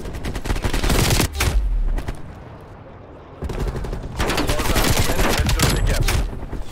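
Bursts of automatic gunfire in Call of Duty Black Ops Cold War, two long loud strings of rapid shots split by a brief quieter gap, close-up and harsh.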